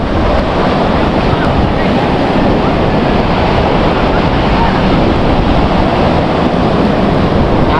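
Steady wash of small ocean waves breaking on a shore at a river mouth, mixed with constant wind buffeting the microphone, loud and unbroken throughout.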